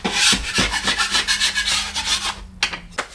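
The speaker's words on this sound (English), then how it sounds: "So I'm just going around and scraping any lumps and bumps off." A scraper rubbing over drywall walls to knock off lumps and bumps, in quick rhythmic back-and-forth strokes, close and rasping, with no talking.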